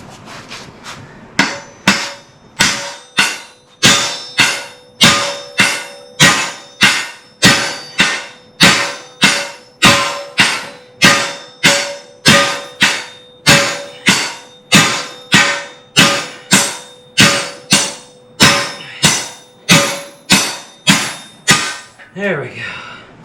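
Steady metal-on-metal hammering knocks the perch pin out of an early Ford straight front axle from 1939–1948, driven with a shaft: about thirty loud, evenly spaced ringing blows close by, with no talk over them.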